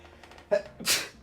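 A single close sneeze in The Great Ace Attorney video game: a short intake of breath followed by a sharp, bright burst.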